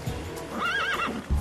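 A single close horse whinny, an Icelandic horse neighing in a wavering rise and fall for about half a second, with soft shuffling before and after.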